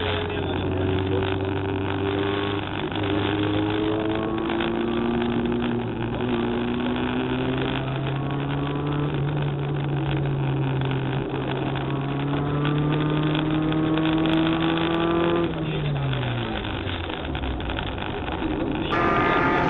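A rally race car drives toward a corner during a rally-school lesson, its engine droning loud and close as the pitch climbs steadily under acceleration, then drops sharply near the end, with faint voices in the background.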